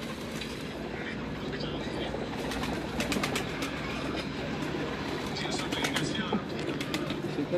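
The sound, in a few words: pigeons cooing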